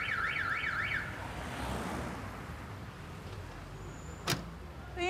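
A car alarm goes off after someone touches the parked car, opening with a rapid warbling siren and then fading into steady background noise, with a single sharp knock near the end.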